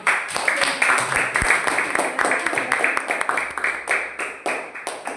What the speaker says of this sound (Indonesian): Ya, kita beri tepuk tangan untuk kelompok 1.